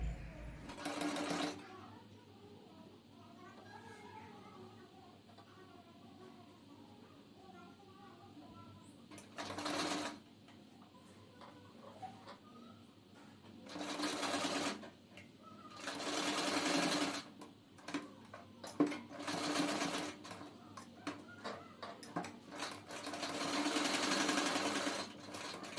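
A sewing machine stitches along the edge of a net-collar blouse in several loud bursts of rapid whirring, separated by quieter pauses with faint handling sounds and a soft voice.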